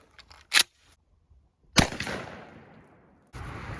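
Turkey shotgun firing a Federal 2 3/4 inch number 5 shell: one sharp, distant-sounding boom with a long fading rumble of echo, preceded by a brief click, faint and outdoors.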